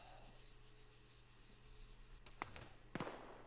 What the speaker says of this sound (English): There's a rifle firing